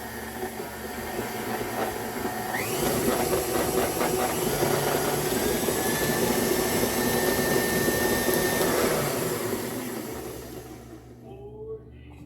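A steady, loud electric mixer whirs without pause as it blends an egg into chocolate cake batter for chocoflan, then winds down near the end.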